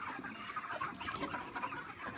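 A flock of chickens in a shed keeps up a continuous, overlapping clucking chatter, moderately close with no pauses and no talking.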